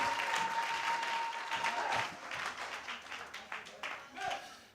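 A church congregation at a French-language sermon claps and cheers in a dense wash of applause that slowly thins into scattered claps, with voices mixed in throughout.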